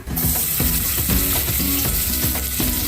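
Chopped onion dropped into hot oil for a spicy Maharashtrian black-masala chicken kharda, giving a loud, steady sizzle and frying hiss with repeated stirring scrapes and clinks in a regular rhythm, no talking.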